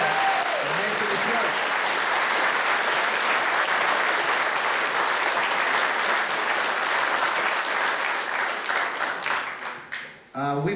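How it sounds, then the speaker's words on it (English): Loud, sustained applause from a conference audience at a UFO magazine event in Holmfirth, a dense continuous wall of many clapping hands that thins and tapers off near the end as a voice starts up. "I want you to applaud my staff, please"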